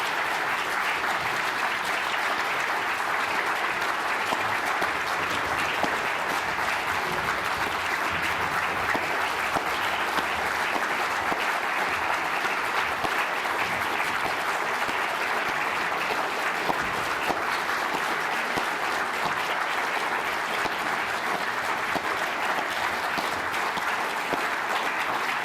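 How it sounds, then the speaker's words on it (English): A lecture audience gives sustained, even applause that stays loud and unbroken for the full span, a dense crowd of hands clapping with no speech over it. "Well, that was wonderful applause and richly deserved."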